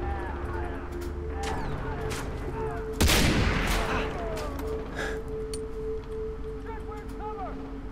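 Gunfire in the jungle shooter Far Cry 3: one sharp, loud shot cracks out around the three-second mark over an ambient background with faint chirps, and a voice talks during parts of the clip.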